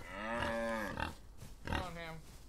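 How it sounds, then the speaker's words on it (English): Cows mooing on a farm in the Outlaws of the Old West video game, two long, close, clear lowing calls in a row. "let's bring all the cows out"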